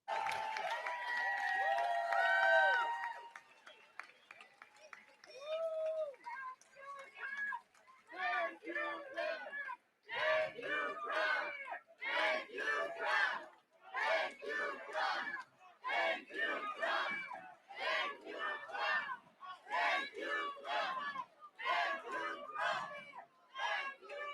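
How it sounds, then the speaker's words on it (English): A large crowd at an event in Israel cheers loudly for Trump, bursts of shouting and applause rising and falling in repeated waves, with amplified speech heard at the start. "The same people who are booing Netanyahu, look how loudly they're cheering Trump."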